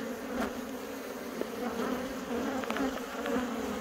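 Honeybees buzz steadily at an open hive on Dartmoor during a brood inspection, a close, continuous drone with individual bees passing near and away.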